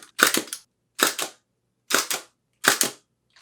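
A medium format camera shutter fires four times in an even rhythm, each a close, crisp double-clack with short silences between, then a fifth begins at the very end.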